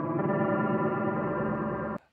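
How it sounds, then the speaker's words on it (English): A sustained synth tone run through the pseudo bit crush effect of the Frostbite 2 plugin sounds gritty and buzzy with a dense, distorted harmonic texture, holding steadily for two seconds before cutting off abruptly. "How about this pseudo bit crush?"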